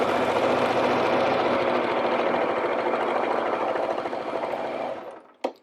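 A sewing machine stitches steadily around the curved seam of a fabric face mask, a loud, continuous rapid whir with no talk, stopping near the end with a brief click.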